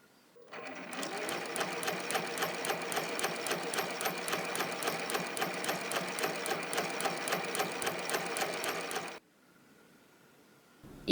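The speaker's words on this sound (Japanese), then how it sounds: "それでは身ごろにギャザーミシンをかけていきましょう。" A sewing machine runs a steady line of gathering stitches across a Liberty print blouse bodice, its rapid needle beats close and even for about eight seconds before stopping into near quiet.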